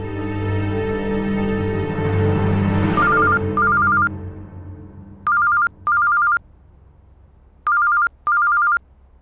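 A telephone rings in short warbling electronic double bursts, sounding three times with clear pauses between rings. A music bed fades out just before the first ring.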